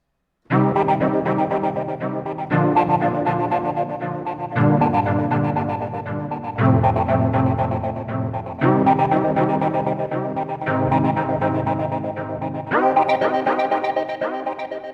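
A lo-fi retro synth patch made in Ableton Live plays sustained chords that change about every two seconds. A rhythmic pulsing texture runs through each chord, and the sound is moderately loud with no talking.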